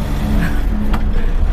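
A truck drives on a highway at night just after overtaking another vehicle, with a loud, steady engine drone and road rumble heard from inside the cab and no voices.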